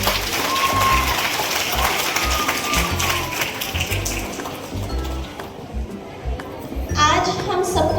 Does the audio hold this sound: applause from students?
yes